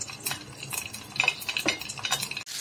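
Mustard seeds, white sesame and a green chili crackling in hot oil, with irregular close pops and spitting over a soft sizzle, and occasional clinks of a spoon against the pan.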